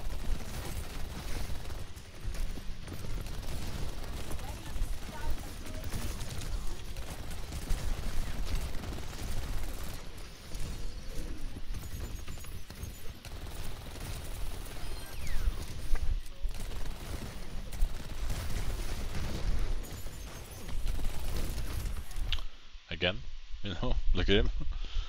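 Sombra's rapid gunfire in the Overwatch 2 video game, dense bursts of shots and mechanical game effects running continuously under near-constant talking, with a brief cut to choppier sound near the end.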